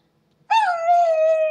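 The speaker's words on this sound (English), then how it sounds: "Barking and howling." A Second Life beagle pet lets out one loud, sustained howl that bends briefly upward, then holds steady and clear for over a second, close and alone.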